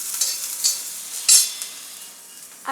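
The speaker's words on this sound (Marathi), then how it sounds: "ह्याला चांगलं एक मिनिटभर परतून घ्यायचं" Turmeric and salt fry in a little oil with chilli and garlic while a spoon stirs, producing a soft steady sizzle with a few brighter scraping swishes, close and moderately loud with no talking.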